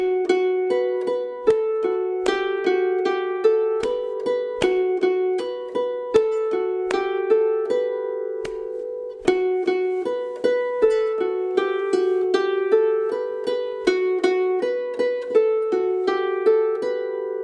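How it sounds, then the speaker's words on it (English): A Swedish folk tune played on a fiddle over a steady drone on B, brisk repeated bowed phrases with constant sustained pitch underneath, close, bright and continuous with no voices. "You may notice that I played a drone accompaniment on a B."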